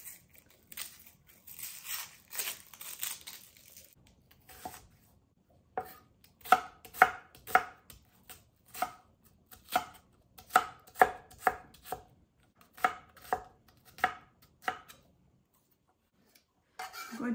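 A knife chops a small onion on a board in a kitchen, a run of sharp, evenly paced close taps with short pauses, following a softer stretch of quieter handling at the start.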